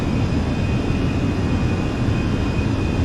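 Fenix A320 jet engines at climb power in Microsoft Flight Simulator give a steady, loud, broad roar with no talk.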